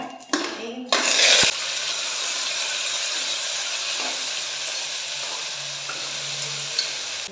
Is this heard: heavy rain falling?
no